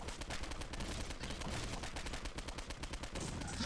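Rapid gunfire from armed enemies in the video game Postal 2, dense bursts of overlapping shots crackling continuously at moderate level without a pause.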